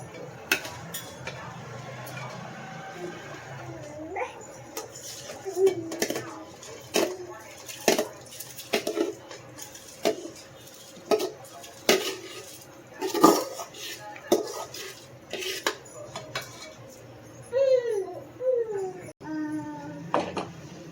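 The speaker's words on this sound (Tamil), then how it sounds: "அரிசி நல்லா கழுவி வச்சுருக்கோம் அது இதில் சேர்த்துக்கலாம்" Washed seeraga samba rice tipped into a pot of chicken dum biryani, heard as a run of close clinks and scrapes of a metal vessel and spoon, with pauses and a few soft background sounds.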